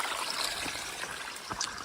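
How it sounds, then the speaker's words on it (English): Moosehead Creek trickles softly across a woodland trail, a faint, steady flow of water with small splashes and no voices. "where Moosehead Creek crosses the trail."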